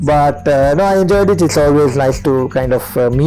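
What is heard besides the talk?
No everyday noises stand out.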